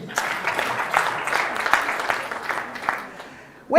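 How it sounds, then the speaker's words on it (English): Audience in a hall clapping at the Lira University orientation ceremony in Uganda, a moderate burst of claps fading, then a loud voice cuts in at the very end. "Clap again."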